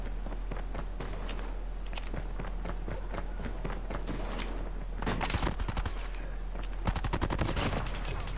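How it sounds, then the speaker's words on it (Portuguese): A LAPA submachine gun in a Call of Duty multiplayer match, first scattered taps and footsteps, then two fast bursts of rapid automatic fire, close and sharp, with no talking. "A cadência dessa arma é um absurdo, velho."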